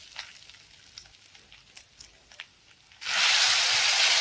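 Raw papaya curry with red chili powder is stirred in a pan: faint scraping taps come first, then a loud, steady sizzle of frying takes over for the final second.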